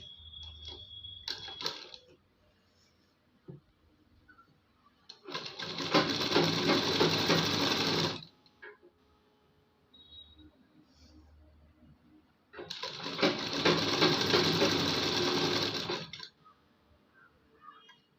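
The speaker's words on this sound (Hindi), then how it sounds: "ये अब हाफ इंच पकड़ते हुए पूरे में सिलाई लगाएंगे।" A sewing machine stitches the rounded sleeve seam of a suit with a half-inch allowance, sounding as two loud, steady runs of several seconds each, separated by quiet handling of the fabric.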